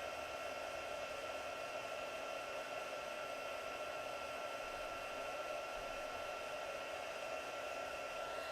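A heat tool blows hot air steadily over an embossed paper pool party hat, a continuous loud whirring hiss with no talking.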